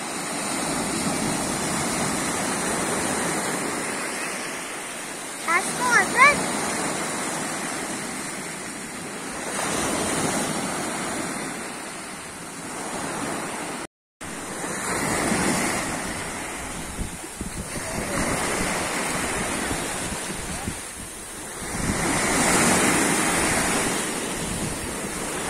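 Surf washes steadily onto Saut D'eau beach in Trinidad, a continuous near roar of breaking waves with swells rising and falling, wind buffeting the microphone and one short dropout midway.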